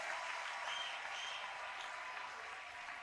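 A church congregation claps for the Lord in a steady, dense burst of applause, heard somewhat distant and faint throughout.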